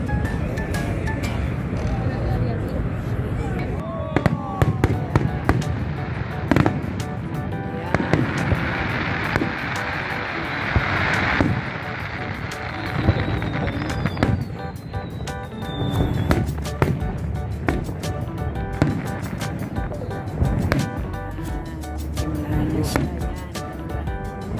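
Firework bangs and crackles pop out of a busy outdoor crowd at Niagara Falls, with people chattering throughout and a thin whistle rising midway.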